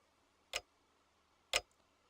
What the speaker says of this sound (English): the ticking sound of the second hand ringing keenly in her ears